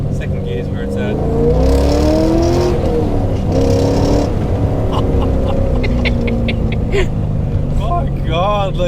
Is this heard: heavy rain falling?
no